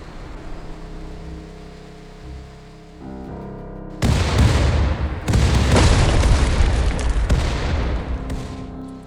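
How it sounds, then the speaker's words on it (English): Cannon fire from a pirate ship in RimWorld: after a quiet stretch, heavy booming blasts erupt in a dense barrage of several loud, overlapping explosions that rumble on continuously, with no speech. "After taking on a barrage of cannon fire from a pirate vessel, we decided to get the hell out of Dodge."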